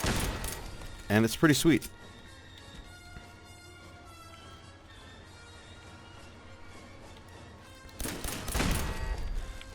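A 10mm pistol fires in the video game Fallout 4, with a quick burst of sharp shots near the start and another cluster of shots near the end. Someone talks over the quieter game sound in between.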